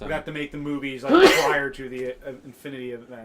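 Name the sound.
sneeze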